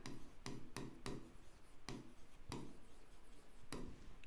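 Pen strokes during a maths lesson on given points, a quiet series of short scratchy writing taps and rubs at an uneven rhythm, close and faint with no talk.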